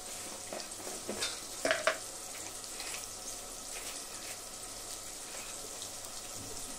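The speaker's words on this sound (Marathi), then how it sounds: "आता कांदे घालायला लागले मी." Onions sizzling steadily in a pan for Marathi vangi bhaji (brinjal), a constant high hiss with a few louder scrapes of stirring near the start, no talking.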